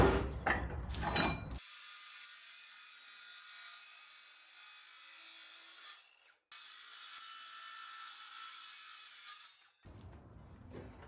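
A power saw whines steadily through wood for several seconds, dropping out briefly mid-cut, with rough handling noises at the start and end.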